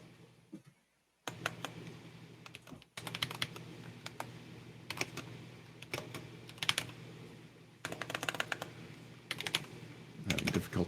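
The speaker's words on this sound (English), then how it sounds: "Having difficulty typing today." Computer keyboard typing in bursts of quick, fairly close key clicks, with short pauses between runs and a low steady hum underneath.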